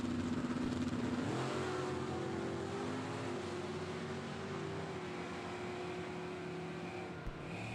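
Distant engine roar of an Oldsmobile and a Camaro drag racing cars accelerating down the strip at a Super Pro bracket event, a sustained rising drone with shifting pitch under steady outdoor background noise.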